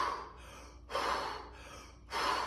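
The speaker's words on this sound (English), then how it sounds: "We're gonna breathe like we just sprinted up a steep hill," Heavy exaggerated breathing done as a hip mobility exercise technique, like after sprinting up a steep hill: three loud, breathy gasping exhales alternating with quieter inhales, close and alone.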